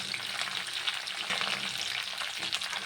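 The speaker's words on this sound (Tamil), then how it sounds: "பிரண்டையும் வந்து கொஞ்சம் ஆயிலே நல்லா வறுத்து எடுத்துக்கலாம்" Pieces of pirandai (adamant creeper) frying in oil for a pickle, with a dense, continuous crackling sizzle close by, accompanied by light stirring and no voices.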